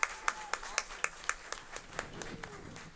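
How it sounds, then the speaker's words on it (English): A round of applause at a school board meeting, with crisp, evenly spaced claps that start strong and thin out over three seconds, close by in a quiet room. "So I think that deserves a round of applause"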